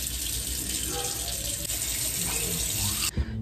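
A bathroom tap runs steadily into a sink while someone brushes their teeth on a cold morning, a close, continuous rushing splash that cuts off sharply near the end.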